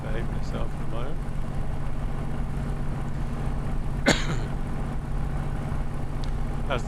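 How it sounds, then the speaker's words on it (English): In Microsoft Flight Simulator, a Spitfire's engine at Goodwood hums as a continuous low drone. A single sharp cough or throat-clear cuts in briefly midway, close to the microphone. "Can you hear the engine?"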